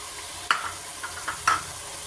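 Vegetables with mint and coriander leaves sautéing in a pan for veg biryani, a soft, low sizzle broken by a few short stirring scrapes and clinks.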